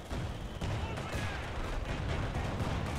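Sector artillery barrage in a World War strategy game, a dense, continuous roar of distant and near shell impacts and booms rumbling without pause throughout.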